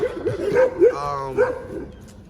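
Presa Canario of Irema Curto working stock giving a few short barks and higher yips close to the microphone, with brief whining tones between them.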